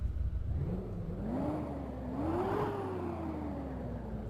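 A Hyundai Xcient truck engine in Euro Truck Simulator 2 revs up and down in smooth rising and falling sweeps, a whirring motor tone, moderately loud, with no talking.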